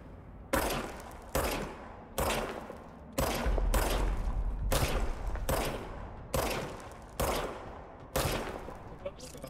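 Gunfire from the service weapon in the video game Control: about eight loud, sharp bursts at roughly one-second intervals, each with a short ringing tail, close and dominant.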